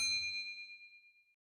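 A single bright notification bell ding rings out clearly and alone, its metallic tone fading away over about a second and a half.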